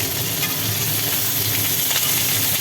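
Pointed gourd fries in hot oil with a loud, dense sizzle full of quick spluttering pops, close and continuous, with no speech.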